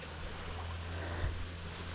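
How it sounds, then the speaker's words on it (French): A small cascading mountain river fed by old glacier water on a Corsican route between Zicavo and Quenza, heard as a steady, faint broadband rush with a low hum beneath and no voices. "Encore une petite rivière cascade."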